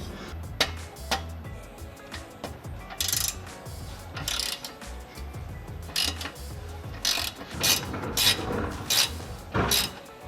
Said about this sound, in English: Now we will need to use a shifter spanner as it's a little bit tight in here